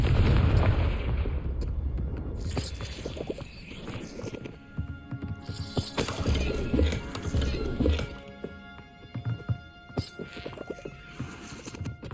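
A Confringo blasting spell in Hogwarts Legacy sets off loud booming explosions with crackling debris, several heavy bursts spread across the stretch amid clattering game effects.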